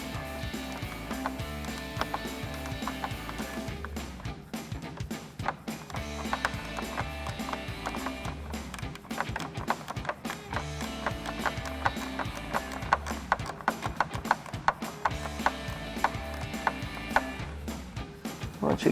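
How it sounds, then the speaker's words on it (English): Ratcheting wrench slowly loosening a headlight bolt on a 2021 or later Ford Bronco, with repeated close mechanical clicks and clatter in an uneven rhythm across the whole stretch. "Go ahead and get our wrench in Now this one is going to be a slow process."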